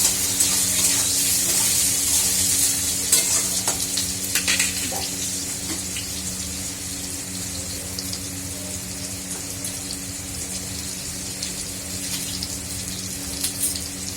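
Potato and eggplant frying in a pan, a steady soft sizzle with faint clinks and stirring scrapes, close and continuous throughout with no talking.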